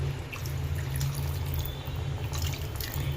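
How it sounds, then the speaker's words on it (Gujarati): Water poured into a cooking pan of simmering curry on the stove, a soft continuous trickle with faint drips over a low steady hum. "આપણે થોડુંક પાણી નાખવાનું છે એક બે ઘૂંટડા જેટલું"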